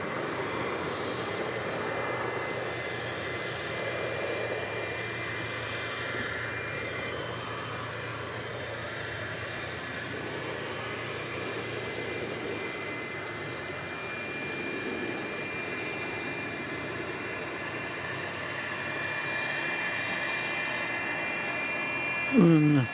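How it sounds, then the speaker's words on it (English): Cessna 208B Grand Caravan propeller plane arriving at DFW Airport at night, a steady broad engine drone from a distance with a voice talking over it throughout. "That was Martin Air Flight 648 coming in from Tyler, Texas, a Cessna 208B Grand Caravan"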